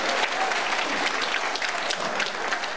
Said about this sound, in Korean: 박수 한번 칩니다